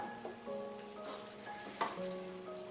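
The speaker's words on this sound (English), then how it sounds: "just going to stir it around" A ham fettuccine casserole with milk added gets stirred around in a pan, giving a faint, soft stirring and gentle simmer under a low background hum.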